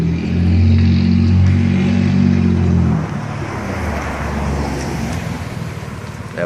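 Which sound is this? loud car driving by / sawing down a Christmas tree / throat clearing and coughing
loud car driving by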